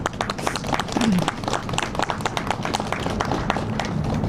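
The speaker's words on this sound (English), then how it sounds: "And you can clap for that." An outdoor audience claps at a Chicago press event on city infrastructure beside the Dearborn Street Bridge, giving a modest spatter of individual hand claps that stays moderately loud and thins slightly toward the end.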